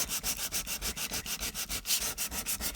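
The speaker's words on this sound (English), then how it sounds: "She sanded all the paint off the can." Sandpaper scrubs paint off an aluminum soda can in quick, even back-and-forth strokes, a steady rasping rhythm heard up close with no talking.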